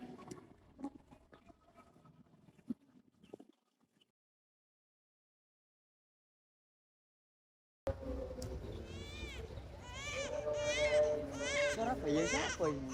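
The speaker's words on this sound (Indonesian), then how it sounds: "Suara bayi siapa ini?" An infant wails loudly in a scene from the Indonesian film Ken Dedes Ken Arok, with sustained rising and falling cries that burst in after faint rustling and several seconds of silence.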